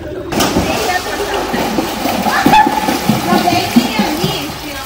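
Children swim and splash in water at home, a continuous rushing slosh with children's voices talking and calling over it throughout.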